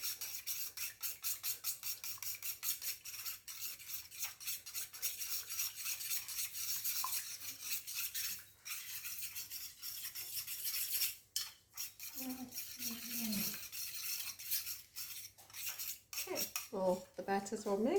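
Tempura batter being mixed in a bowl, with fast, faint scraping and rubbing strokes going on steadily, while a voice speaks now and then near the end.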